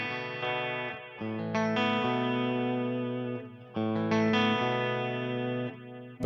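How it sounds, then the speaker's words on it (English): An electric guitar through an amp turned all the way up rings out sustained, distorted chords with an echo effect trailing each phrase, played alone without talk, in a Paul Reed Smith guitar demonstration. "I just put some echo on so you hear it with the really."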